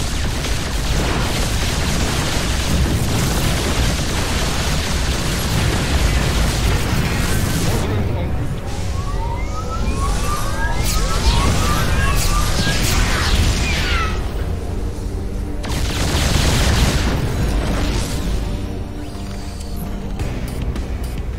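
StarCraft 2 battlecruisers firing and explosions, dense bursts of booms, pops and mechanical weapon noise in continuous loud clusters, with voices talking over the action.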